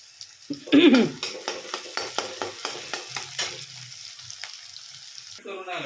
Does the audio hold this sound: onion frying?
yes